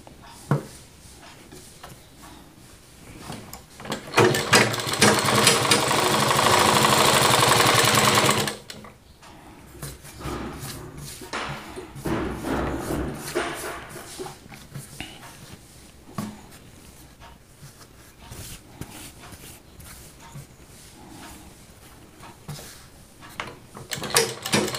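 Sewing machine stitching the magji trim of a Rajputi dress, a loud continuous mechanical whir for several seconds, followed by quieter rustling of fabric and shorter bursts of handling noise.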